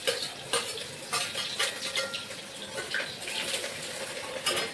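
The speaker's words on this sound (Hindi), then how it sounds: "ये लहसुन डाल दिया है ताकि लहसुन जो है वो थोड़ा हल्का पिंकिश हो जाए" Garlic sizzles in a hot pan as the base for a pulao, a busy crackling fry broken by louder bursts as it is stirred, close and steady with no talking.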